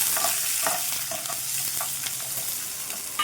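Mustard seeds, urad dal and onion pieces frying in a pan for an ivy gourd masala gravy curry, a bright continuous sizzle close by with scattered light pops and spoon taps throughout, and no one speaking.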